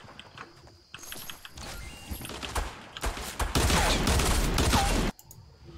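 Dual pistols fired in the video game Fortnite, a rapid burst of gunshots mixed with mechanical clicks and game effects, growing louder and denser before cutting off abruptly, with no voices.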